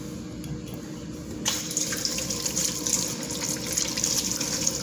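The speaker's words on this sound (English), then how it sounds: "Gonna wash my hands real quick." A faucet runs steadily into a sink as hands are washed, the hiss of water jumping louder a moment after starting and holding a close, constant splashing rush.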